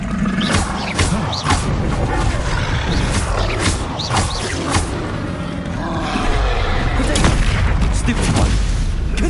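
A fire spell cast in the Hogwarts Legacy game erupts as a loud, sustained roaring blaze with repeated booming bursts, dense and close amid a busy game soundscape.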